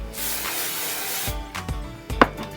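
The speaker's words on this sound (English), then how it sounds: "spray it down with hairspray." A short hiss of hairspray from an aerosol can onto a teased ponytail, soft and steady, followed by a few faint handling clicks.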